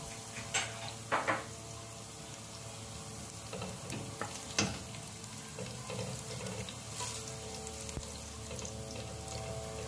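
Garlic sautés in a pan, a faint steady sizzle broken by a few sharp scrapes and clinks as it gets stirred, with a light watery trickle in the background.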